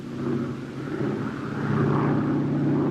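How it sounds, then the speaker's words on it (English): WWII propeller tow planes taxiing at full throttle, a loud, steady engine drone and propeller roar that swells slightly as it goes, heard without speech. "Taxiing at full throttle, the tow planes had to remain on the ground until the ton-and-a-half gliders were airborne."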